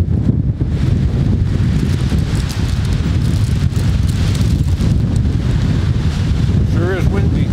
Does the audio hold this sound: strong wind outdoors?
yes